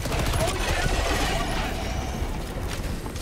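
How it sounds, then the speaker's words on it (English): Rapid automatic fire from a machine gun sentry in a bug-fighting shooter game, a dense continuous rattle with chopping transients over game noise and voices. "Oh wait, that's a machine gun sentry."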